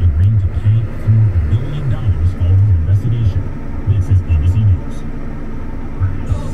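A combine harvester engine works hard during a corn harvest, a steady low throbbing drone that rises and falls slightly, with voices talking over it close by.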